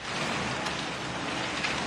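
Heavy typhoon rain pours in a dense, continuous hiss, loud and steady throughout with no pauses.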